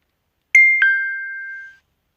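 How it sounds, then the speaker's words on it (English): A phone notification chime sounds once: two quick bright tones, the second ringing on and fading over about a second, loud and close in an otherwise silent room. "Forgot to switch off my phone sound when recording this audio"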